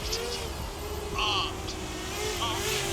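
Rate L40 long range FPV drone making passes outdoors, a faint, steady motor and propeller whine with a few brief rising buzzes as it flies by at a distance.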